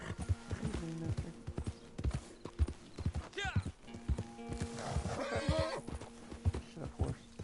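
A horse in a PS4 video game whinnies over a rapid clip-clop of hooves while someone talks in between, the game sounds close and fairly loud.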